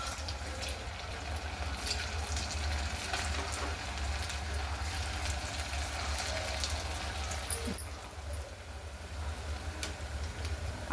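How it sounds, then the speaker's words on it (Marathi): French fries sizzle and bubble in medium-hot oil, a continuous dense crackling hiss with scattered pops, steady and close. "आता आपण हे फ्रेंच फ्राईज तळून घेऊ."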